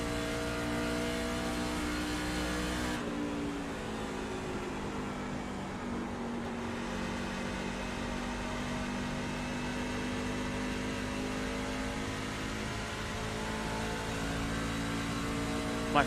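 A dirt race car engine in the NARC Dirt Racing video game drones at steady high revs, with layered harmonic tones that dip briefly when the pitch shifts, then hold a constant loud whine to the end.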